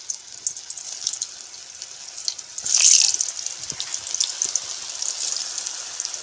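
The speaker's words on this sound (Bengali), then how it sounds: "পনিরের টুকরোগুলোকে আমি ভেজে নিচ্ছি" Paneer pieces coated in a little flour frying in hot oil for chili paneer, a steady soft sizzle with a brief louder crackling burst near the middle.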